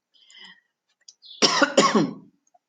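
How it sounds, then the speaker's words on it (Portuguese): Two sharp, harsh coughs close to the microphone, preceded by a faint breathy rasp and quiet noises. "Desculpa pela tosse."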